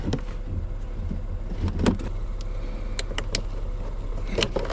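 Plastic electrical connectors are unplugged inside a 2020 Honda Pilot, giving several sharp clicks and rattling snaps spread over a few seconds against a low background hum.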